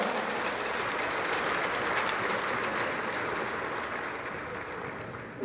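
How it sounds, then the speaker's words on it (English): Crowd applause for volunteers at a charity hockey final between police and Coast Guard teams, a dense, steady wash of many hands clapping that fills the space and slowly tapers, no voices over it. "big round of applause for all the people out there that on their own time help us out"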